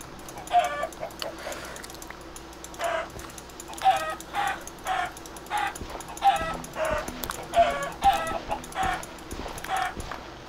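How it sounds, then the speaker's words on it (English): Chickens in the video game Minecraft TerraFirmaCraft cluck in a steady series of short, fairly faint bursts, one after another, over a low background hum. "Look at all these chickens."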